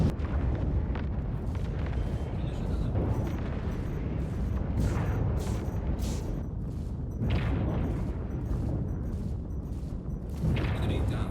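In Star Citizen, an M2 Hercules ship is blown apart under Deadbolt cannon fire. Rumbling booms and repeated explosive bursts roll continuously over a heavy low roar, with a voice talking in between.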